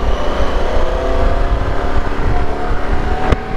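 A 2021 Harley Davidson Pan America Special motorcycle accelerating hard on an open road, a loud, continuous engine roar rising under steady wind buffeting, with a sharp click near the end.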